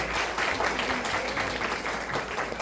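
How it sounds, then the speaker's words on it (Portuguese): An audience claps for Davinho, a volunteer at a summer evening church show, with moderate, steady applause through the short stretch. "Uma salva de palmas para o Davinho, gente."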